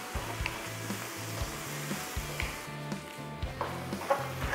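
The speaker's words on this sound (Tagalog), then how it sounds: "Konting gisa-gisa lang muna. Mga 30 to 40 seconds." Mussels sautéing in a hot pan over high heat for an adobong tahong dish, giving a steady close sizzle with scattered stirring clinks and scrapes, no voices.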